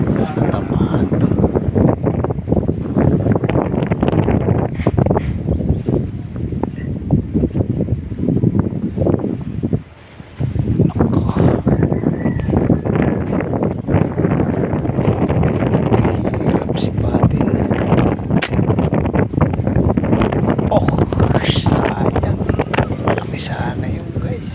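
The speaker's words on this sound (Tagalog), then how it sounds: "malakas ang hangin" Strong outdoor wind buffets the microphone during a hunt, a constant loud rumbling roar that dips briefly once midway, with a voice speaking beneath the gusts.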